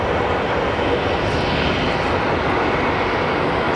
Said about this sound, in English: we have our Delta Airlines flight coming in from Seattle.